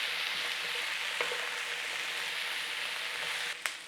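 Steady, loud sizzling of corned beef hash frying in a pan, a continuous crackling hiss with a couple of brief clinks or stirs near the end and no talking.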